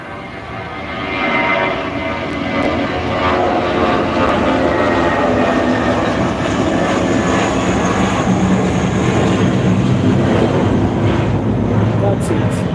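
A Thai Airways airliner at Phuket International Airport builds into a loud, sustained engine roar that swells and holds, with wind buffeting and a voice speaking over it.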